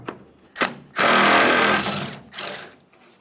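Power tool driving out 13mm bolts from a tailgate hinge on a 1999–2006 Chevrolet Silverado 1500 bed, a few brief ratcheting bursts followed by one long whir and a shorter final burst, close and loud.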